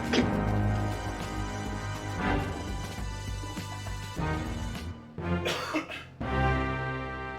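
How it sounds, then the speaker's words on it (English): Several loud, close coughs and throat clearing break out in bursts through a home kitchen where ribeye tacos are being made, with short pauses between them. "Excuse my cough."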